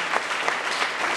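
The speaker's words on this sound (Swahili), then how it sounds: "Makofi mengi sana" Sustained applause from a church congregation during a prayer service, a dense steady wash of many hands clapping with no voices over it.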